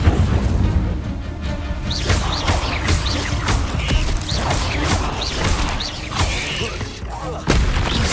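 Incendio fire spells cast during combat in Hogwarts Legacy, dense with whooshing bursts and impacts over a loud, continuous game soundscape of booms and clattering effects.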